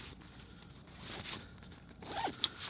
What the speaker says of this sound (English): it's a little mesh zipper right here